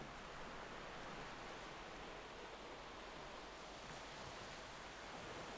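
Ocean waves wash onto a beach as a soft, continuous surf hiss, even and unbroken, with no voices.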